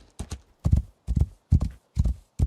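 Horse hooves clip-clop in a steady riding rhythm in the video game Rising World, loud and close in regular pairs of beats with no talk over them.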